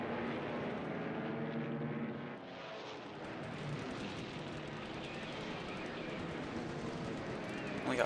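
Fighter aircraft engines in the World War II Pacific video game War in the Pacific, a steady droning roar that dips briefly near the middle and then holds even, with speech blended into the wash.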